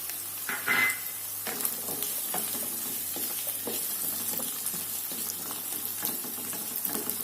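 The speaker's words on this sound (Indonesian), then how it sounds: "Kita masak petenya dulu biar sedikit empuk" Stink beans (pete) fry with ginger, galangal and shallots in a pan, a close, crackling sizzle with frequent scraping stir strokes and small clatters running throughout.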